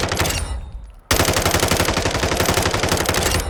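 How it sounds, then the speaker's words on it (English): A weapon fires in Warzone 2, loud rapid automatic bursts broken by a brief pause before a dense sustained stream of shots resumes, with no speech. "So I'm going to shoot a couple of targets real quick."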